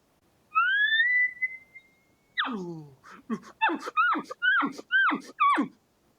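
A man imitates an elk cow call by mouth alone, no bugle tube: a long rising whistled squeal, then a quick run of short chuckling yelps repeated about six times, close and clear against silence.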